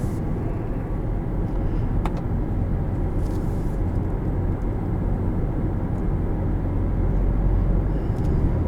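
A 2018 Hyundai Sonata SE cruises in comfort mode, with a continuous low road and engine drone heard from inside the cabin, steady and unbroken apart from a single faint tick.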